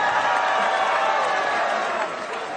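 A rock concert crowd in Bordeaux applauds mayor Alain Juppé with a brief, dense burst of clapping and crowd noise that stays loud throughout and eases slightly near the end.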